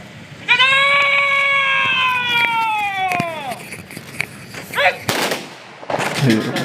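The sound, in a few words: rifle volley salute gunfire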